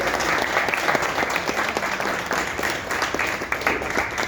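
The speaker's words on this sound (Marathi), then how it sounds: "आणि टाळ्या वाजवा" An audience at a tabla competition prize-giving in Mumbai claps steadily, a dense, even wash of applause from a sizeable crowd that lasts throughout.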